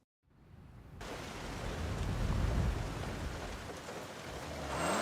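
Rain falling in the racing game Forza Horizon, set in Japan, a steady broadband hiss that starts abruptly and swells, with a low rumble and soft engine-like undertone beneath it.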